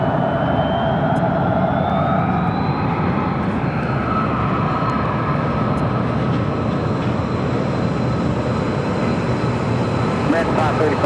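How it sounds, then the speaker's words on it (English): An American Airlines A321neo jet takes off, its engine roar steady and loud throughout, with a rising whine heard at times and a voice talking faintly beneath it. "That was a flight heading to Newark, American Airlines Flight 535 and an A321neo."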